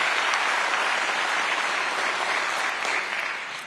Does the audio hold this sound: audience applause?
yes